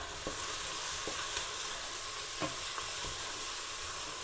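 Onions sautéing in a pan, a soft, steady sizzle with several light scrapes and taps of a spoon stirring them, quiet and close with no voices.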